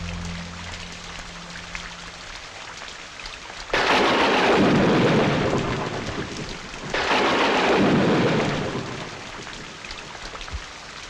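Heavy rain and thunderstorm in a village setting, with two loud rolling thunder bursts over a steady rain hiss, each swelling and slowly fading, after a quieter stretch of rain.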